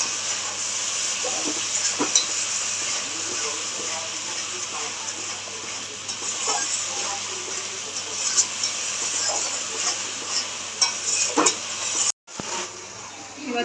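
Spices with salt and turmeric sauté in a pan for a dhoka curry, giving a continuous hissing sizzle with scattered stirring clicks and a brief cutoff near the end.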